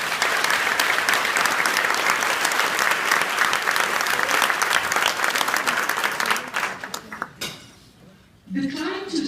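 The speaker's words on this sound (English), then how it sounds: "let's give a huge round of applause for their dedication and commitment" Audience applause at a women achievers breakfast program, loud sustained clapping from a crowd for several seconds before it thins out and fades, followed by a brief voice.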